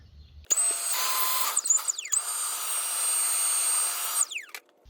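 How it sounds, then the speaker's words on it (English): A leaf blower drones steadily with a high, whining motor tone. Its pitch dips briefly a couple of times before it cuts off. "I'm going to accelerate that dry time a little bit with a leaf blower"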